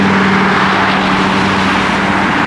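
The sports version of an Alfa Romeo Giulia Veloce runs with a loud, steady engine drone and a strong low hum, heard close up and continuous until it cuts off at the end.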